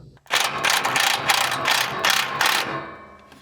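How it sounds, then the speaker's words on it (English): A socket ratchet cinches down the last bolt on a truck, a quick run of loud, close clicking strokes in several bursts with short pauses between them, then a brief fade. "cinch down that last bolt"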